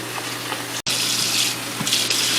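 Warm soapy water runs steadily into a kitchen sink as canning equipment is washed, a continuous close splashing rush broken by one brief cut, with no voices.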